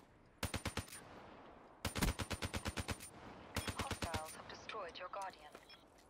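Three bursts of Manowar rifle fire in Black Ops 3 Team Deathmatch on Stronghold, each a rapid regular string of sharp shots, loud and close, with a brief rising electronic warble after the last burst.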